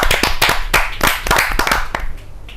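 An audience at a Hindi kavi sammelan bursts into loud, close applause welcoming a poet to the stage, dense clapping that thins out toward the end.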